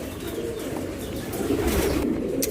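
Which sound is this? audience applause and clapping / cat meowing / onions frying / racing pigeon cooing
racing pigeon cooing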